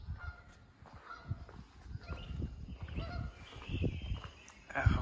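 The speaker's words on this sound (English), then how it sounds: "Here's some Canadian geese over there." Canada geese honk beside Darby Creek near a covered bridge, scattered nasal calls coming and going at a moderate distance, with some faint talk among them.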